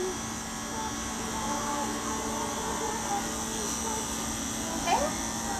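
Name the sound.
Endless Pulse VR cordless tattoo machine buzzing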